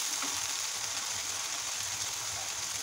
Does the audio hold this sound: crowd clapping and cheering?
no